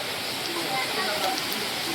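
Steady rain falls at night on a pilgrimage path to Shri Mata Vaishno Devi, a dense even hiss that continues unbroken for the whole stretch.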